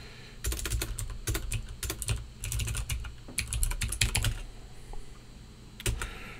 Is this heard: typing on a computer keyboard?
yes